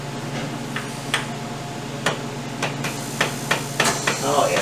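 A plastic mallet taps a part into a Greeves Anglian motorcycle, with irregular light knocks spread across a steady workshop hum, growing a little more frequent toward the end.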